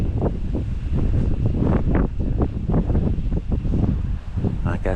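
Wind gusting across a hilltop overlook in West Virginia, a loud, steady buffeting rumble against the microphone with fluttering surges throughout.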